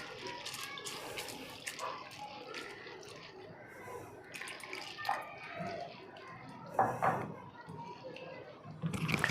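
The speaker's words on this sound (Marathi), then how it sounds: "तो आपण आता स्वच्छ पाण्याने 2-3 वेळा धुवून घेऊया." Sago pearls being rinsed in clean water in a home kitchen, a steady wet sloshing and trickling with brief splashes and drips, close and moderately loud, building toward the end.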